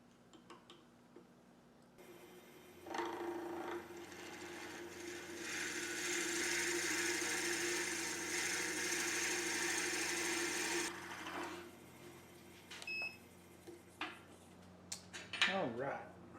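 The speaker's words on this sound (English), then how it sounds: "So let's drill those out." A drill boring through money micarta and wood keychain blanks, a sustained whirring cut for several seconds, then stopping, followed by a few light knocks and scrapes nearby.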